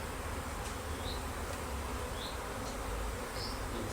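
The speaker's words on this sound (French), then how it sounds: "Bien taper les abeilles, hein, si jamais on avait la reine." Honey bees buzzing steadily around an open hive while a brood frame is tapped, a dense continuous hum from many insects close by with faint higher whines now and then.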